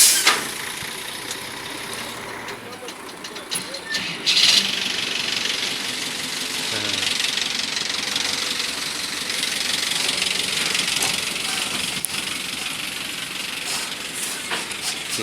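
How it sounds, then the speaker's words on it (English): Heavy goods trucks crawl in dense traffic on a road leading to a major East African port in Kenya, with rumbling, idling diesel engines, sharp air-brake hisses and a few clanks, loud and close throughout. "let me just show you the traffic that has developed here of a short distance."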